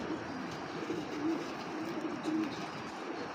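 A female racing pigeon coos in low, repeated murmurs, close by, over a steady hiss of background noise.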